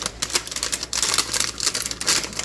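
Crispy baked cottage cheese chips snap and crackle as they are broken into little pieces in a dish, a dense run of close, sharp crunches.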